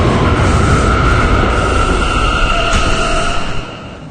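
An R179 subway car on a K train rolls along with a loud, steady rumble and a sustained high whine, staying close and continuous before easing off in the final half second.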